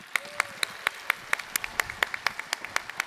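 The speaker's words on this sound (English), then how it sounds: "let's give a big round of applause when we come back" Audience applause at the Knowledge17 ServiceNow Security keynote, heard as a string of sharp, fairly sparse claps at a steady rhythm over a quiet hall, with no talking.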